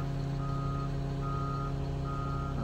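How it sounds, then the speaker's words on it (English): Reversing beeps from other heavy machines working near a John Deere 620GP road grader, a steady evenly spaced beeping over a constant low engine drone. "If you hear the beeping, there's other machines moving around out here today."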